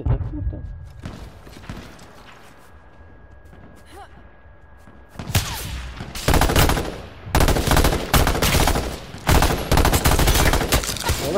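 Gunfire in a first-person shooter free-for-all match: a quiet stretch with scattered shots, then loud, rapid machine-gun bursts that keep coming in dense volleys to the end.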